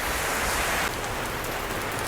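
Steady outdoor rain falls as a dense, even hiss for about two seconds, close and fairly loud, with no voices.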